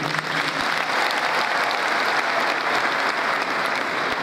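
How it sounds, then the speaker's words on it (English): Steady applause rises from the audience at the Zimbabwe Open University 2013 graduation ceremony, honouring two chiefs receiving master's degrees, an even wash of clapping from a large crowd at moderate distance. "thank you for applauding Chief Mashaya Mondo and the other chief next to him"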